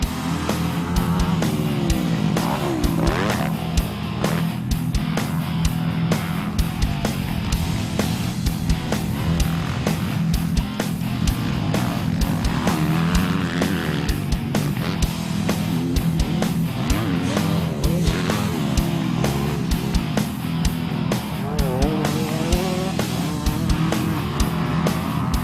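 A pro rider works a motocross bike around a Québec practice track, the engine droning steadily and loudly throughout with continuous revving and no talk.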